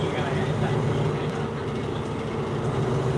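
Train cars rolling along rails on a Thai railway near Namtok, a continuous low rumble with faint wheel clatter, steady and moderately loud from inside the carriage.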